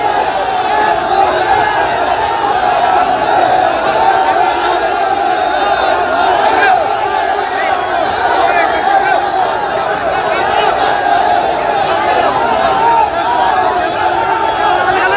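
A large, agitated crowd roars and shouts at a tense Hanuman Jayanti gathering in Agra, where sticks and lathis were waved, a steady, loud wall of massed voices and chanting from start to end.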